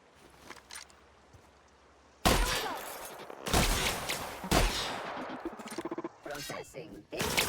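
Assault rifle fire in The Outer Worlds video game, loud bursts of rapid gunfire starting partway through and continuing in clusters, mixed with game sounds and a voice talking over it.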